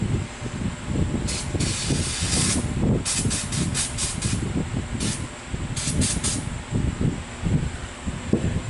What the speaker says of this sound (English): For degreaser, I'm using brake cleaner, so you don't want to get this stuff on your hands